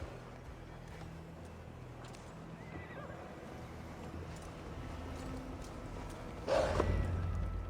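A horse whinnies sharply near the end over a steady low rumble of galloping hoofbeats and background ambience in Assassin's Creed Valhalla; no talking.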